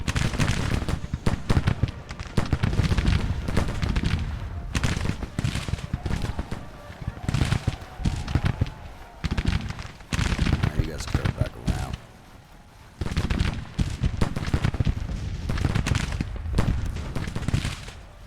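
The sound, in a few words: gunfire in a Civil War video game (GT:CW) battle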